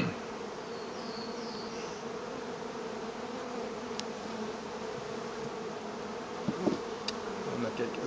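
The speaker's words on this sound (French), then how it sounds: "On a quelques abeilles." Honey bees buzz in a steady, dense drone at an opened hive during a honey harvest, with smoke puffed over the top. The hum is continuous and even throughout, with no voices.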